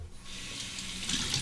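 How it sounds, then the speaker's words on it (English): Hot tap water runs steadily over a Trafalgar T3 synthetic shaving brush, a continuous close splashing hiss that grows slightly louder and fuller toward the end, with no talking. "The Trafalgar T3 synthetic brush. We'll just warm it up under the hot water."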